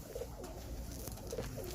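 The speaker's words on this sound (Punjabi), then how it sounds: "ਇਹ ਬਹੁ ਹਸਨ ਵਾਲੇ ਘੜੀ ਮੁੜੀ ਕਬੂਤਰ ਨੇ ਜੀ।" Ghari Muri pigeons from a breeder's loft coo softly in short bursts, faint against a steady background hum.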